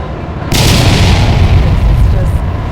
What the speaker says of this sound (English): There's the sonic booms we talked about, and touchdown.